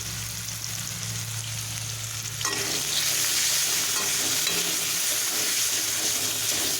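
Potatoes frying in reused oil with black cumin, salt and turmeric, stirred in a pan; a low sizzle swells into a loud, bright, continuous hiss partway through, with scraping stirs and no voices.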